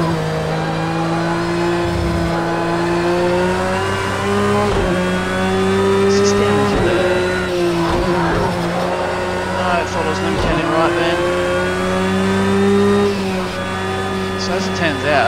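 Porsche race car in Project Cars 2 driven hard, its engine droning loudly and steadily with rising and falling revs through gear changes, plus brief tire noise, continuous throughout with a voice talking over it.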